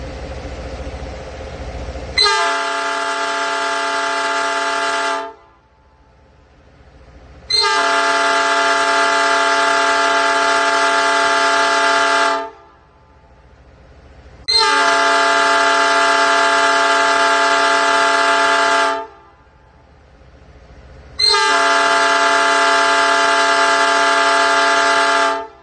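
Southern Railway locomotive 5109 sounds four long, loud horn blasts, each lasting several seconds, with short silent gaps between them in an even rhythm.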